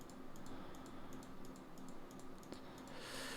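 A short burst of quick computer mouse clicks and key taps, close and fairly quiet over a faint hum, made while building residential fences in Houdini.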